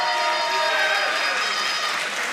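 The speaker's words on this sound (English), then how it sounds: "please give an appropriately lengthy cheer and round of applause" Party conference crowd in a large hall cheering and applauding for a newly announced leader, a dense steady roar of clapping and voices filling the space at a constant loud level.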